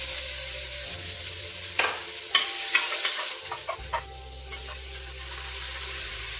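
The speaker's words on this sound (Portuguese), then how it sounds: "colocaremos mais ou menos 2 colheres de sopa de azeite, 3 dentes de alho moídos e 2 cebolas médias picadas" Garlic and onions fry in olive oil in a pot for a vegan feijoada, giving a steady sizzle with a low hum beneath and several sharp clacks and scrapes of stirring in the middle.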